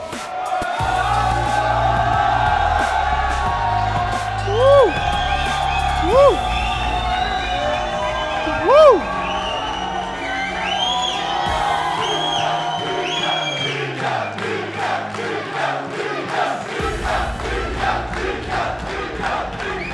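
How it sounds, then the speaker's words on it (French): A crowd at an AOS 3 fight event cheers and whoops loudly, with shouts rising over a sustained roar and a voice speaking over the arena noise throughout. "Faites un tonnerre d'applaudissements pour Adam Dounaïev."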